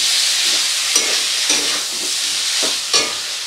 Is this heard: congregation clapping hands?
no